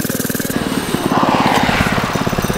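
A viral FRP mini bike's small engine runs right after its first start, a loud, close, rapid pulsing putter that rises in revs before settling back.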